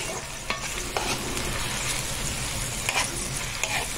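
Finely chopped onion fries in melting ghee (samna) in a pan, giving a steady, close sizzle with a few soft stirring clicks throughout and no voices.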